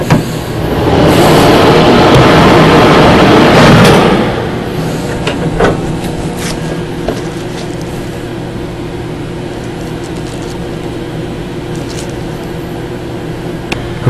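A MINIPACK Galaxy heat shrink packaging machine working on two DVDs, sounding as a loud, steady mechanical whir and hum for about four seconds, then a quieter drone with scattered clicks and knocks.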